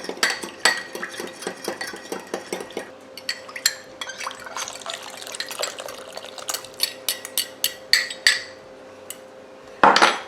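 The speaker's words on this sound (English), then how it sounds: "I'm just going to take a fork, blend this together before I put it back into the crock pot juices" A fork clinks rapidly against a bowl while mixing a roast gravy thickener, sharp rhythmic taps and scrapes with wet swishing, pausing briefly before a final louder clatter.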